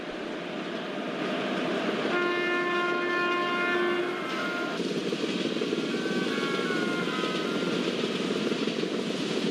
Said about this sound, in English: Let's make a long horn because we are crossing unnamed level crossing